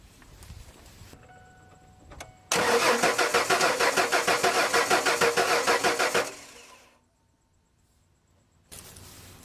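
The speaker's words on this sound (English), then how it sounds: "I'm going to turn the truck over now and show you" A 1994 Ford F150 pickup with a 4.9L inline-six cranks over for about four seconds in a loud, steady rhythmic churn that never catches, with quieter idle noise before and after.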